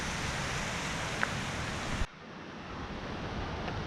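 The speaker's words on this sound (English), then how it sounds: "Creek's right down here, looking pretty zesty." A creek flowing near a hiking trail makes a steady broadband rush that abruptly drops to a softer, more distant wash partway through, with no speech.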